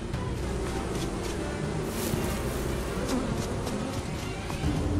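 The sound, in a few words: bees buzzing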